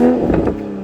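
Dual exhaust of a BMW Z4 M40i giving a brief, loud rev close by, a short engine roar that swells and then settles to an idle hum.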